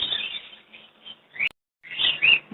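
Budgerigars chirp at a Sunday bird market where breeder pairs, albino and creamino birds are sold, a dense run of close high twittering that breaks off briefly, then returns in busier bursts.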